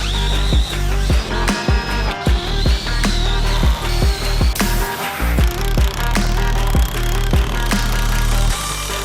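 A power tool drives hefty bolts to fasten a large percussion power press down onto wood, sounding as a loud close series of rapid hammering impact bursts with brief pauses between them.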